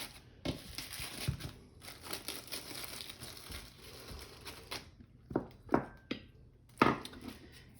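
Quiet crinkling and rustling of a plastic bag holding fondant for cupcake toppers, with scattered soft crackles and a few sharper crunches near the end.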